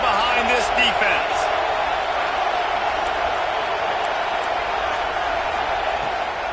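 A packed stadium crowd roars steadily for the defense on a big third down at a Bama vs LSU college football playoff game, a dense sustained wash of cheering under a commentator's voice.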